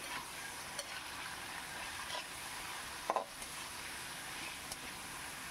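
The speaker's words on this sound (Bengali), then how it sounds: "বিনসটা অ্যাড করে দিলাম, দিয়ে ভালো করে একটু নাড়িয়ে চাড়িয়ে নিচ্ছি।" Sliced beans and carrots being stirred in a pan while cooking vegetable noodles, a faint steady sizzle of frying with soft scraping stirs and a couple of brief clinks of the utensil against the pan.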